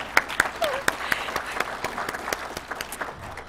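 Audience applause at a police basic patrol academy commencement, steady scattered clapping with sharp individual claps, moderately loud indoors and lasting throughout, with faint voices mixed in.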